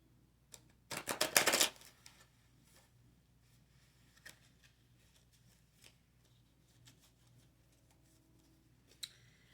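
A quick burst of stiff, new playing cards being shuffled, a loud riffle lasting under a second, followed by quiet handling clicks and rustles.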